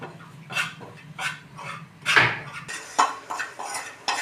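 Metal utensils clink and scrape against a pan while spices are roasted, with several sharp taps and a louder clatter midway, close and fairly quiet with no talking.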